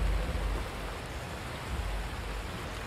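Steady, fairly quiet rainfall in Skyrim at night, a continuous soft hiss of falling rain with no voices over it.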